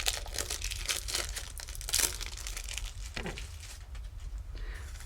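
Plastic wrapping crinkles and tears as it is peeled off a block of plasticine, close, irregular crackling bursts that come and go for several seconds.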